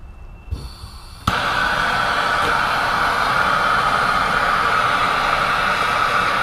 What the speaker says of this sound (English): Right now what I'm doing is I'm heating the pipe adequately.